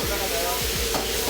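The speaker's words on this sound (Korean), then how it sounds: "야채를 먼저 볶으시고 그다음에 해물 넣어요." Vegetables and seafood stir-fried for jjamppong in a Chinese restaurant style, a steady loud sizzle with a few low scraping thumps of stirring.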